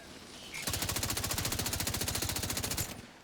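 In the heavily modded Skyrim Nolvus setup, a deployed turret fires a rapid, even burst of automatic shots lasting a little over two seconds. The gunfire is crisp and mid-distance, with no voices over it.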